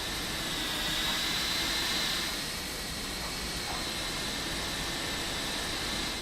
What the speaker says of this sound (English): A little bit loud here, lots of jet noise.